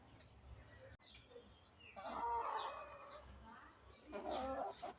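Chickens cluck in short bursts while being fed freshly cooked hot food, with a couple of louder clucking spells close by over low background noise.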